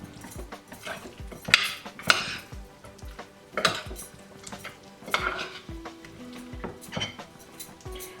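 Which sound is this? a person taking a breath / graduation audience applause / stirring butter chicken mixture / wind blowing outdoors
stirring butter chicken mixture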